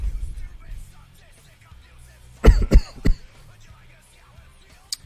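A sick man coughs in a quick cluster of two or three harsh, loud bursts, then one more brief cough a couple of seconds later, over a quiet room.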